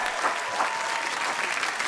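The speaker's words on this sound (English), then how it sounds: "a special round of applause" A studio audience on a comedy panel show claps steadily in dense, even applause, loud and close, with no pauses across the short stretch.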